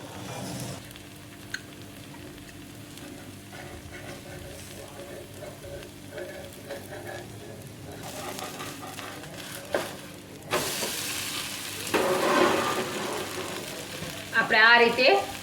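Jowar pudla, a sorghum-flour pancake, sizzles and fries in oil on a pan over the gas flame, a steady crackling hiss that swells louder toward the end, with a few scraping touches and a voice speaking in places.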